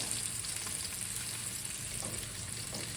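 Potatoes frying and searing in beef-flavored oil, a steady dense crackling sizzle held close and continuous throughout with no talk.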